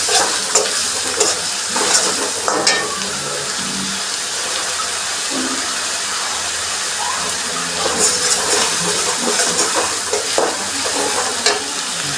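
Onion paste with cardamom and garam masala sizzles steadily in a pan, a broad continuous fry hiss with intermittent scraping stirs over about twelve seconds, no talking.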